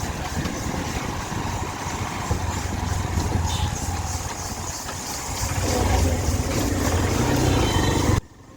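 A motorbike engine runs on a road beside a river, a continuous close low rumble that holds steady and swells slightly toward the end before cutting off abruptly.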